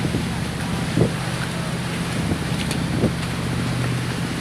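Boat engines hum steadily at sea off Papaya, Nasugbu, Batangas, mixed with wind buffeting the microphone and waves, with a couple of soft thumps rising over the continuous low drone.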